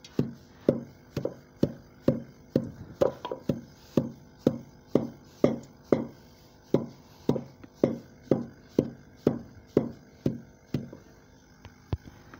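Ingredients for a homemade probiotic oil for goats are pounded by hand, giving about twenty steady, evenly spaced thuds, close and fairly loud, with no talking.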